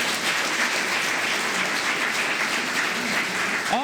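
Audience applause at an education workers' appreciation event in Tartu, dense steady clapping from a crowd sustained evenly throughout.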